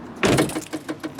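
The central locking on a 2004 Ford Focus C-Max unlocks a door that had been stuck locked: one firm mechanical clunk up close, then a few lighter rattling clicks trailing off.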